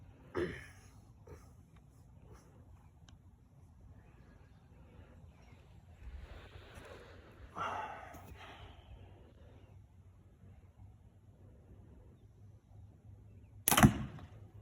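Heavy 2,852-grain arrows shot from compound bows, an APA DG and a PSE Omen, into a deer target: two sharp thwacks far apart, the later one loud and close, with soft rustles and breaths between.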